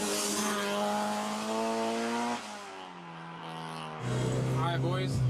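A car engine drones steadily from inside the cabin during a ride-along, its pitch holding, dipping, then rising again as it pulls, close and fairly loud.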